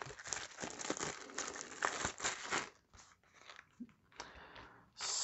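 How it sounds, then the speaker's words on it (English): Scissors snip and cut into a card pack's plastic wrapping, followed by close crinkling and rustling of the plastic in bursts, quiet overall, with brief pauses. "I'll just cut into the pack."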